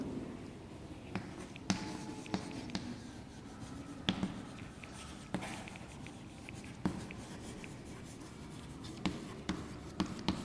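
A teacher writes lines on a board in a classroom, giving faint scratching strokes broken by sharp taps at irregular intervals, with no voices.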